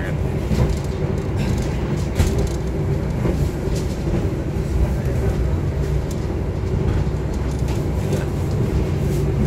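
A continuous loud rumble and rattle from inside the Sembrani passenger train running from Jakarta to Surabaya, Indonesia, steady throughout with faint clacks and creaks on top.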